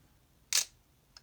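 A Minolta XE-5 35mm film camera's advance lever gives one sharp, close mechanical ratchet snap, followed a moment later by a faint small click, in a quiet room.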